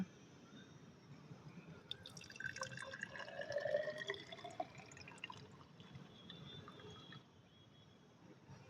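Water trickles and drips into a rain gauge measuring beaker at close range, a thin splashing stream rising and then tapering off, with no one speaking.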